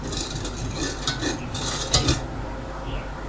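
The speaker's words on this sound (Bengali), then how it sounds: "আমি ঢেলে দিচ্ছি আস্তে আস্তে" A chemical is poured slowly and stirred while a plastic cleaner is being mixed, making a steady scraping and swishing stir with small clinks against the container.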